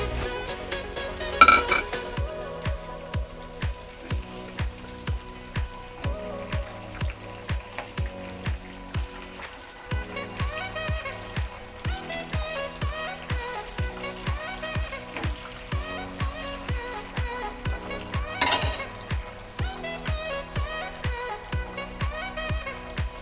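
Peanuts and slit green chillies frying in oil for tamarind pulihora, a steady crackling sizzle punctuated by regular scraping and clinking of a spoon stirring in the pan, with a couple of louder bursts.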